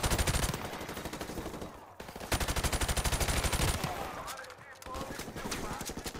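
Rapid automatic gunfire in Call of Duty 4 Modern Warfare, loud sustained bursts with a short pause near two seconds, then continuing fire under game sounds.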